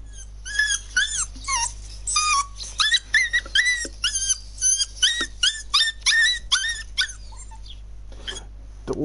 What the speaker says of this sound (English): Hold on, I can get bark noises for you.